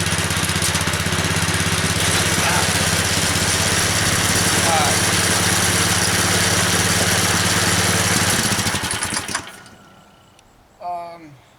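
A homemade shifter kart engine with a torque converter runs loudly and steadily nearby in a constant droning buzz for about eight seconds, then cuts off and fades, leaving brief voices at the end.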